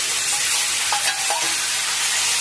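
Chopped tomato and onion hit hot oil in a pan, giving a loud, continuous sizzle with a few brief scraping stirs, close and alone.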